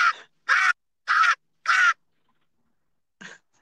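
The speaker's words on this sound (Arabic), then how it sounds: "لقيت غراب فوق الشجرة بيصيح لولده" A crow perched in a tree caws four times in a steady, evenly spaced series of loud, harsh calls, then gives one fainter caw after a short pause, with nothing else audible.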